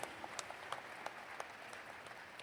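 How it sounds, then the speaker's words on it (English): Audience applauding jury members at the IFFI 2016 film festival closing ceremony, faint and distant scattered claps over a soft wash of clapping, with no talk. "A big round of applause for them, please."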